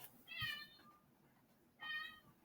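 A house cat meows indoors, two distinct drawn-out calls about a second and a half apart, fairly close and clear over a quiet room, with no talking.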